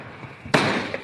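Firecrackers bursting at a New Year celebration: a sudden loud bang cuts through quiet background noise and rings out into a crackling, fading roar.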